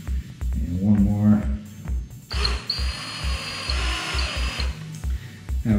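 A power driver whirs in several short bursts, tightening the six bolts of a mountain bike disc brake rotor, with a longer steady run in the middle; close and fairly loud with brief pauses.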